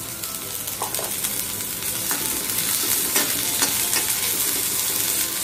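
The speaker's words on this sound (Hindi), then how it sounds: "अभी इसी में ये मटर है वो डाल रही हूँ मैं।" Peas frying in hot oil in a pan alongside already-crisped fried pieces for a Kala Maharashtra dish, a steady loud sizzle with a few scraping stirs of a spoon, close up and without talk.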